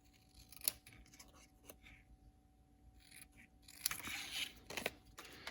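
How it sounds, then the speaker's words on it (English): Scissors trimming around a punched paper flower template for a card project, several quick, crisp snips and paper rustles close up at low volume in a quiet room. "what I can do is use a scissors to cut out the remainder."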